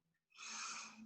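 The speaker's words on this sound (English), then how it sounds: "Deep inhale and exhale, halfway there." One deep breath during a guided exercise session, a single close, airy rush that swells quickly and then fades slowly, heard on its own.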